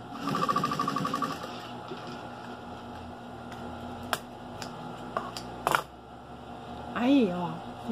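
A sewing machine stitches a seam on a knit-fabric rug with pointed edges in a brief, close rattling burst at the start. Quieter handling taps and rustles follow.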